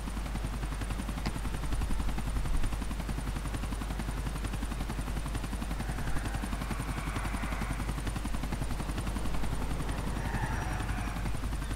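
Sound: enemy helicopters in video game Grand Theft Auto IV

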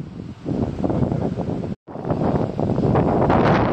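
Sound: strong wind gusts on a ski chairlift

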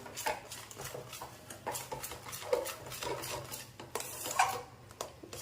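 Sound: stirring gram flour batter in a pan

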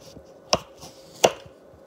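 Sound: cutting a potato in half for fries

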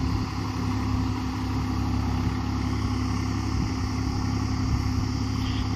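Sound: Swaraj 744 XT tractor with rotavator working in wet field

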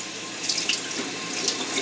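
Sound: warm water running from a tap

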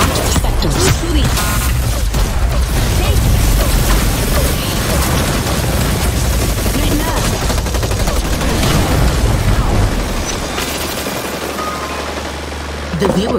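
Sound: gunfire from the video game Hyper Scape

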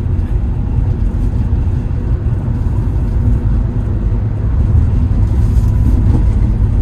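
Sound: Toyota Avanza Veloz engine driving downhill in gear

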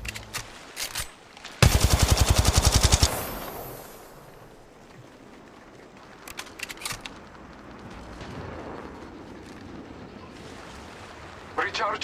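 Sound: weapon firing in Apex Legends video game

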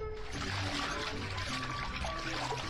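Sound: water from a tap pouring into a bucket

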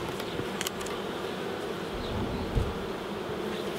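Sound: honeybees buzzing around an opened hive

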